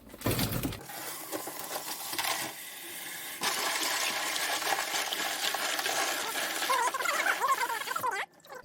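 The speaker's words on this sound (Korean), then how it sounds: "그럼 일단 바지락을 이게 얼렸던 건데 한번 씻어 주겠습니다" Frozen clams are rinsed in a bowl under running water, a continuous splashing flow with rattling shells and sloshing, ending with a swirl of water before stopping.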